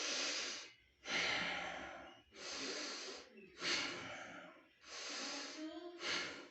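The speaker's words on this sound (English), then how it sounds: "and start deep breathing" A person lying prone takes deep, slow breaths, five or six long audible inhales and exhales with short pauses between them, close and quiet, sometimes with a snorting edge.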